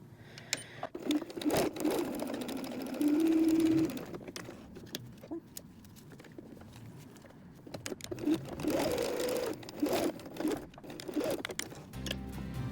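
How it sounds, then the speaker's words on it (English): A sewing machine stitching a Velcro wallet seam at a narrow allowance with backstitching, short whirring bursts of needle running that start and stop, fairly quiet and close, with no talk. "I'm sewing at 1/8 of an inch seam allowance"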